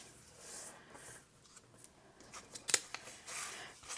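A paper notebook page is folded by hand, with soft rustling and rubbing, a sharp crisp crease near the middle and a few quieter scrapes after, close and faint with no talking.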